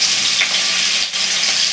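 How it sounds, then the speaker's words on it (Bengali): Minced chicken keema frying in oil in a home kitchen pan, a steady close broadband sizzle with a brief dip near the end, no talk. "আগে আমি কিমাটা দিয়ে নিই তেলের উপরে, তারপরে আমি একটু ভেজে ভেজে নেব"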